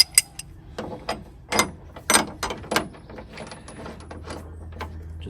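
A wrench tightening a bolt on a Ford Maverick truck tailgate: rapid ratcheting clicks in short bursts, close and fairly loud, with a few metallic knocks and no talking.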